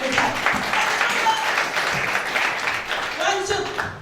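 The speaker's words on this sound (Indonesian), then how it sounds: "Berikan tepuk tangan bagi Tuhan." A church congregation claps during a Sunday worship service, a steady mid-level applause with voices mixed in beneath it.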